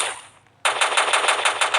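Gunfire in the Roblox game Gun Grounds in free-for-all mode: one loud shot, a brief pause, then a rapid, steady automatic burst close up.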